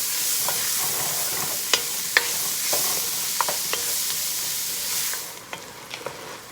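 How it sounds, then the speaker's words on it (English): Vegetables sautéing in a single pot for a chicken and cabbage casserole, a steady moderate sizzle with scattered sharp utensil clinks and scrapes, easing quieter near the end, without speech. "Okay, I sauteed them about 2 minutes."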